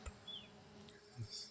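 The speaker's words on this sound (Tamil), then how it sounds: "இங்கே பார்த்தீங்கன்னா கொசு அதிகமாக இருக்குது." Stingless kosu honey bees buzz faintly around a wild hive, brief high whines and hums drifting past close by against a quiet background, with no talk.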